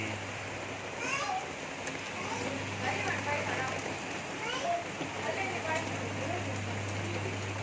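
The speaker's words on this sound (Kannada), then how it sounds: "ಮಳೆ ಬರ್ತಿದೆ" Rain falls steadily in a constant hiss, with children's voices faintly heard now and then beneath it.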